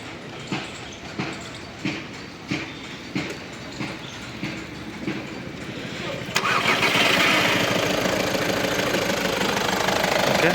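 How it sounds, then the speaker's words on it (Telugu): A 2014 Skoda Rapid cranks with a steady rhythmic whirr of starter pulses and then catches. It settles into a loud, continuous idle close by, and a voice can be heard under the engine. "ఒకసారి బండి స్టార్ట్ చేసి చూపిస్తాను."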